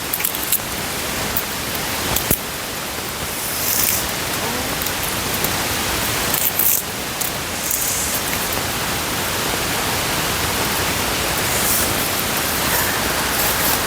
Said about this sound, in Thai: ฝนตกน้ำท่วม